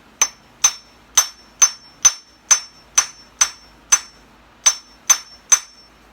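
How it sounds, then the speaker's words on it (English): A hammer strikes twisted 16 gauge tie wire for a wire sculpture, giving eleven sharp, ringing metallic hits at a fairly even pace of about two per second, close and loud, each with a short bright ring. "after getting it twisted, I will take a hammer basically and just bang on it."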